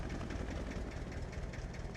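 Steady, low, rumbling drone of a tractor engine straining under load in the farming video game Farming Simulator 22, constant and fairly loud throughout with no pauses and no talk.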